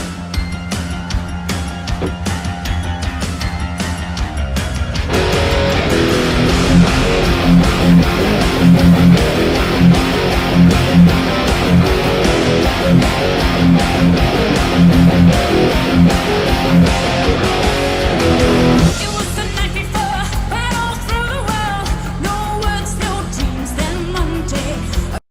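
Dense, loud metal song with vocals on top and the guitar riff running low beneath, the full band swelling heavier in the middle section, no talking.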